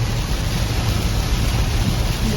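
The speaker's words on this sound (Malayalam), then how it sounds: "നല്ല പൊരിഞ്ഞ മഴയാണ്" Heavy rain pours down during a trip to Kozhikode, a loud, dense, unbroken hiss that holds steady throughout with no voices.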